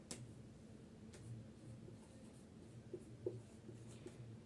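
Chalk or marker writing a heading on a classroom board, soft scratchy strokes in short bursts at close range, with faint room hum and no talking.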